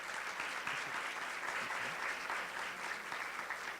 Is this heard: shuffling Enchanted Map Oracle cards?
no